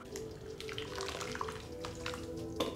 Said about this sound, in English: transfer the pork into a bowl and pour marinade right on top